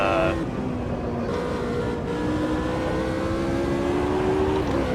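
Race car engine in the Automobilista 2 racing simulator, a steady loud drone with shifting pitch as it revs and changes gear, continuous throughout.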